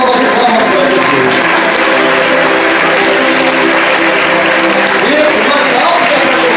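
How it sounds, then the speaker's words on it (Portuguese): Church congregation applauding during a Sunday service, a loud, continuous roar of clapping from a packed room, with voices and music carrying underneath throughout. "dê uma linda salva de palmas para Jesus"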